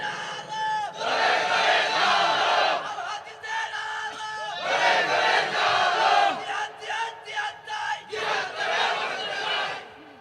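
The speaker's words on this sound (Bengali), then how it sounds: "আওয়াজ করে একটা তাকবীর দেন" A large crowd at an outdoor religious sermon roars a takbir in unison, several loud, sustained chanted bursts rising and falling one after another.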